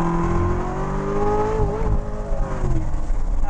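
A Chevrolet Corvette C7 Z06 runs on a race track, its engine droning steadily at high revs, pitch sagging briefly as it lifts and then pulling again with a gravelly rumble from inside the car.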